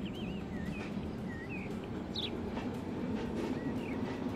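Trains running in the rail-building game Transport Fever 2: a constant low rolling rumble of rail traffic with a few faint high squeals and chirps drifting over it.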